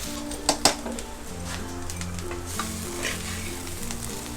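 Guar bean thecha fries over a low gas flame, giving a soft, continuous sizzle with a couple of sharp clinks of a spoon against the pan near the start.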